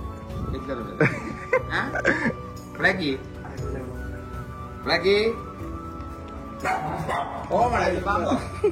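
A German Shepherd dog barks and yips in short irregular bursts close by at home, mixed with excited whimpers, while people talk and laugh over it throughout.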